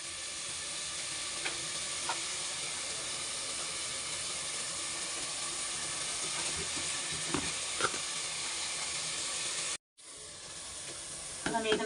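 Chopped tomatoes and green chillies sizzle and steam steadily in a hot pan for soup, a dense continuous hiss with occasional stirring clicks, close and fairly loud throughout, cutting briefly near the end.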